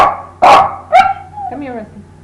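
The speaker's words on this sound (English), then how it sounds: "One starts barking, the others start barking straight away." Several dogs, four in the house, break into barking one after another: a loud close bark, then a sharper yelp and a drawn-out whining yip, short bursts in quick succession.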